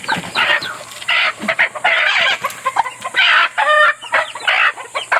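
A mother hen clucks and squawks in quick repeated bursts nearby, a busy, uneven flurry of calls.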